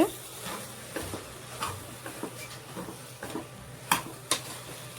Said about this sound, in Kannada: ಆಲೂಗೆಡ್ಡೆ ಬದನೆಕಾಯಿನ ಹಾಕಿ ಉರಿಬೇಕು